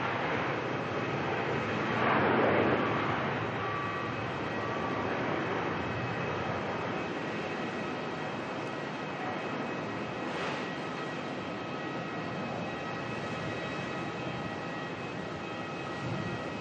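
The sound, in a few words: Airbus A350-1000ULR aircraft departing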